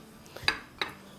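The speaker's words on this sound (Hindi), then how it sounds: "इसको मिक्स कर देते हैं सबको बड़े अच्छे से।" A spoon clinks twice against a cooking pot while mutton chops are mixed with tomato puree, two sharp metallic knocks standing out over a low steady background.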